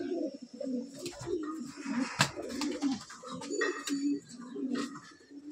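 Pigeons in a loft coo in repeated low throaty rolls, several birds overlapping in a continuous close murmur with occasional brief flutters and knocks.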